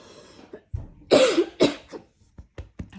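Several harsh coughs in a row, close and loud, with a couple of throat-clearing sounds and short breaths between them.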